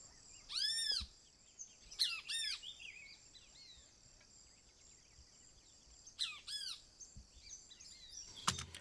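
Birds sing in an immersive outdoor recording, sending out short bright chirping phrases in a few scattered bursts with quiet gaps between them, moderately close and fairly soft.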